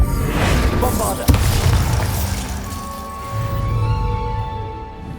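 Bombarda spell explosion in the Hogwarts Legacy video game: a sharp blast with a shattering burst near the middle, followed by rumbling debris and a fading ringing tail, with a voice calling out the spell before it.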